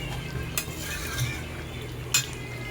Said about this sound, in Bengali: এইবার আমি গরম মশলাটা দিয়ে ভালো মতনভাবে এটাকে কষাবো ভালোভাবে মিশিয়ে নিই